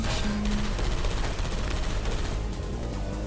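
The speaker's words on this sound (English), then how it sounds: "I heard gunfire!" Rapid bursts of gunfire crackle and pop in dense volleys in the game Portal 2, loud and continuous, with a brief tonal beep early on.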